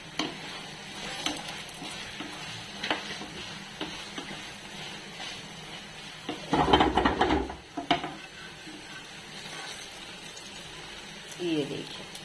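Food roasts in a pan with ghee, making a faint sizzle with stirring, clinks and scrapes of utensils, a louder burst in the middle, and a voice talking over it.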